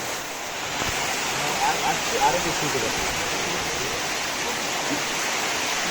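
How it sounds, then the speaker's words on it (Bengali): Heavy rain pours down in front of a roadside shop, a dense, steady roar that fills the whole scene, with faint voices beneath it. "প্রচুর বৃষ্টি পড়তেছে আমি যদি দেখাই যে বৃষ্টি"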